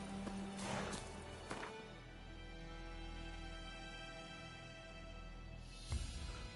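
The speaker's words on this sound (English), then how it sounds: "Getting on all horses is a little annoying." A horse in The Witcher 3: Wild Hunt snorts and shuffles as the rider mounts, with hoof clops and tack noise, faint and close amid steady game ambience, no talk.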